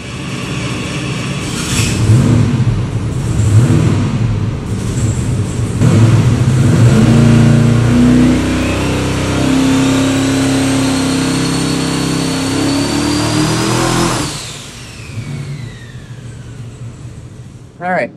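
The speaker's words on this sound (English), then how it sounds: "Now we just got heat in it, made a quick short pull, no boost." Car engine on a dyno making a quick short pull without boost, loud and sustained as revs climb steadily for about fourteen seconds before cutting off and winding down.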